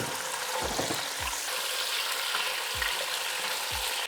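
Meat fries in a pot with whole spices and hing for rogan josh. A constant hissing sizzle runs throughout, broken by a few dull thumps of stirring, with no voices.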